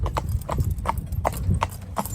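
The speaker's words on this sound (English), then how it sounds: "You might come in a little bit and just jig jog so your horse is still moving nice" A cob horse jig-jogging, hooves clip-clopping in a quick, steady rhythm of close, distinct strikes over a low rumbling background.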